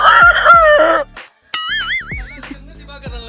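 A man imitates a rooster crowing with his voice, giving loud, wavering, strained calls in two bursts separated by a brief pause.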